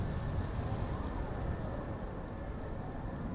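An Atlas V rocket engine burning steadily during launch, a dense continuous roar with a broad low rumble that stays even and unbroken throughout, with no voices.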